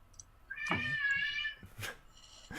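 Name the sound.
cat shrieking in the distance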